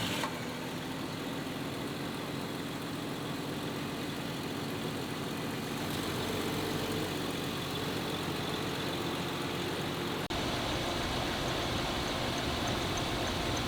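A Jeep XJ engine, freshly fitted with a new alternator and upgraded wiring, runs at a steady idle, with a continuous close mechanical drone and no talking.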